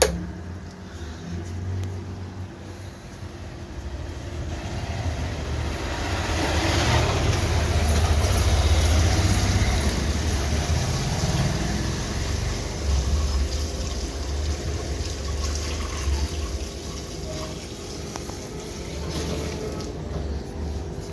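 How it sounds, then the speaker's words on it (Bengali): Water from a tub holding live tubifex worms being tipped out, a steady rushing pour that swells to a broad wash and then eases off while still running. "এই দেখতে পাচ্ছ আমরা জলটা পুরোটা ফেলে দিলাম"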